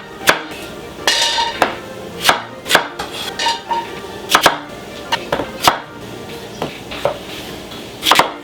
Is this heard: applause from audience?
no